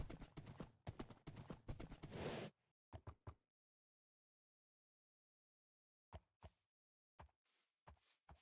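Horse hooves in Minecraft within the SevTech Ages modpack, first a rapid run of clip-clops, then silence, then a few scattered single hoof clops.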